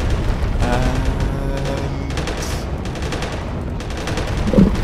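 Weapon fire and railgun shots in the Space Engineers video game, a dense run of rapid mechanical bursts and booming impacts over a constant low rumble, loud and crowded with no talk.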